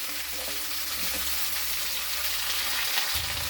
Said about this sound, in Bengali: এগুলো সব একসঙ্গেই ভাজবো ঢাকা দিয়ে দিয়ে